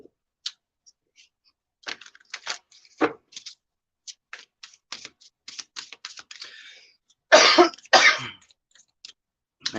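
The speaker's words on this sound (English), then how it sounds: "Sorry for my coughing fit." A person coughs two or three times in a short burst near the end, preceded by light clicking and tapping, like keyboard typing, close to the microphone.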